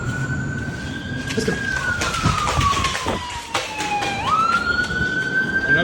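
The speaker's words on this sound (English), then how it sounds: "That might be a police siren too." Emergency vehicle sirens, police and fire trucks, wailing nearby as they turn in, one tone sweeping down and then jumping back up, with traffic noise and people talking over it.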